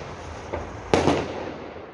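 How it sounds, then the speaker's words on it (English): Fireworks go off in the street outside a Frankfurt hotel on New Year's: a soft pop, then one sharp loud bang with a crackling tail, heard from a short distance. "There are people lighting up fireworks literally right in front of the hotel."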